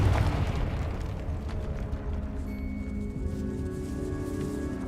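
A Confringo blasting spell bursts in Hogwarts Legacy, a deep rumbling explosion that swells and then rolls on as a sustained low roar with faint ringing tones, heard alone.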